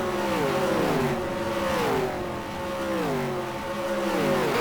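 V8 Supercars in rFactor stream past one after another, their loud, high-revving engines rising and falling in overlapping pitch sweeps as the field goes by.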